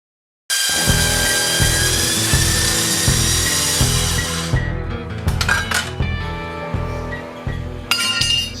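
A power cutting tool slices through a metal dirtbike part near the sprocket, a loud continuous grinding whine with shrill clinking edges, then broken into shorter bursts and metallic clinks toward the end.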